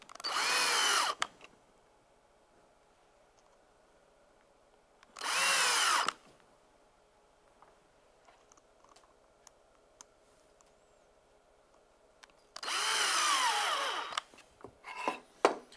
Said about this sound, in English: take the mounting screws that came along with the track and fasten it down into that dado